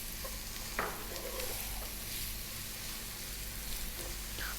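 Garlic and olives still holding their stones frying in a pan, a steady close sizzle with a few scraping stirs of a utensil against the pan, no voices.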